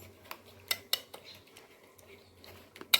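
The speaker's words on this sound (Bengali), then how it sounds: "এখন আমি ডিমটাকে খুব ভালো মতন ফেটিয়ে নেব" Eggs with chopped onion, salt and chilli are beaten in a bowl, giving irregular light clinks and taps of utensil against the bowl, close and moderately loud with quiet gaps between strokes.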